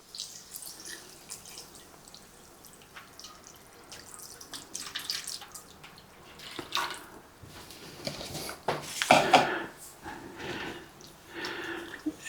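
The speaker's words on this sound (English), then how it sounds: "next I'm going to add 2 cups of water." Two cups of water poured into a cooking pot while making taco rice, a thin splashing and trickling that builds and grows louder toward the end, with no talk over it.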